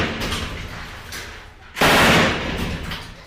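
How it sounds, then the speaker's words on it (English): Bursts of gunfire crackle through the first half, then a loud explosive blast at the midpoint sends a roaring wash of sound that slowly fades, in the alleys of Jenin refugee camp during a military assault. "Explosions and gunfire have rocked the alleys of Jenin refugee camp since the early"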